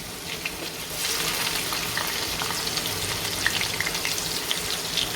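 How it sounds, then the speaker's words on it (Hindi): Chopped onion fries in oil with cumin seeds in a cooking pot, a loud, continuous hiss and crackle close up, with faint scrapes of stirring scattered through and no speech. "प्याज को हम अच्छे से फ्राई कर लेंगे।"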